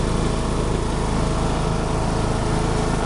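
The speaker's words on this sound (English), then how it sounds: "I'm on the Craftsman riding mower." A Craftsman variable-speed riding lawn mower engine runs steadily up close, a constant loud mechanical drone with no pauses and no talking.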